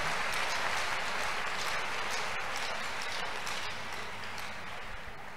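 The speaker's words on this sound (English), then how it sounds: "A big clap offering to Jesus." Steady, dense applause from a crowd at a church crusade, continuous and fairly loud throughout, fading slightly toward the end.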